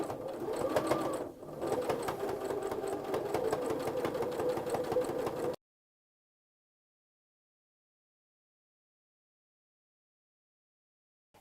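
Sewing machine stitching steadily around the edge of a placemat, a continuous close whirring run for about five seconds with a brief dip, then cutting off to silence.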